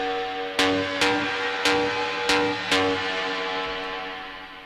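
Main synth lead of an industrial techno track: five sharp, evenly spaced stabs with bright attacks over sustained tonal harmonics, loud and alone with no voices.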